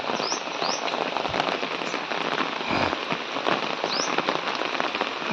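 A downpour drums over waterlogged paddy fields, a thick continuous wash of raindrops close by with a few sharper splats and crackles scattered through it.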